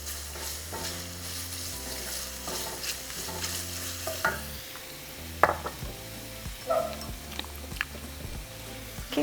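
Minced garlic fries and is stirred in a pan, giving a soft continuous sizzle broken by a few scraping clinks of the utensil against the pan.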